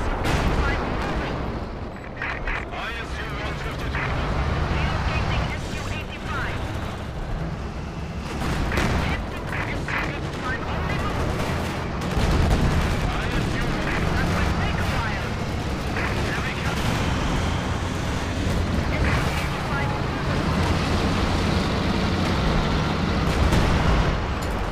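A sustained artillery barrage in a large Company of Heroes 2 battle rumbles on through a long stretch, with repeated impacts and scattered gunfire over a dense, noisy wartime backdrop.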